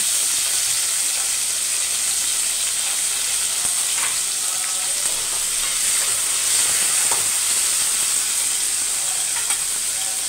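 Onion and two tomatoes fry in a pan with a constant, loud, bright sizzle that barely varies, with faint scattered crackles and no voice.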